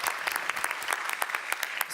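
Steady audience applause at a European policy summit panel, continuous clapping at moderate volume with distinct individual claps standing out, filling the whole short stretch.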